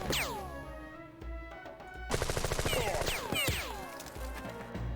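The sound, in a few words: gunfire from the video game Jagged Alliance 2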